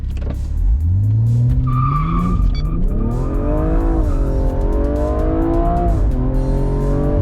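A BMW M135i XHP Stage 3 launching hard with traction trouble: the engine climbs loud and close through rising revs, tyres squeal, and a brief dip marks a gear change before it pulls on.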